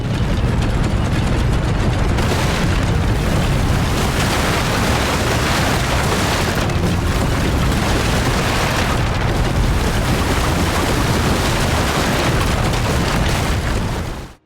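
Naval combat in the sailing ship video game Legacy of Sail produces a continuous loud wall of cannon fire and explosions, with booms piling densely together and ending abruptly.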